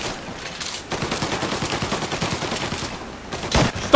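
Rapid automatic gunfire from a gangster-era shootout in Mafia Definitive Edition, a dense stream of close, loud bursts rattling for several seconds with a sharper blast near the end.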